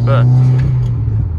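Subaru WRX Premium engine pulling away under light acceleration from behind another car, a steady low rumble close and loud, with someone speaking briefly over it.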